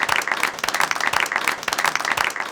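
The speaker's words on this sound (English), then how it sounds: "if we could just give them a round of applause" Audience applause at a Parents In Recovery training workshop in Boston: dense, continuous clapping from a crowd, steady and fairly loud throughout.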